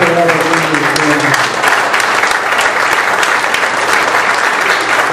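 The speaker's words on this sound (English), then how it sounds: "Let's give an applause for all the work you're doing." Audience applause breaks out at a Shingle Springs/Cameron Park Chamber of Commerce District 2 candidate forum, loud and sustained clapping from a crowd with a voice briefly heard at the start.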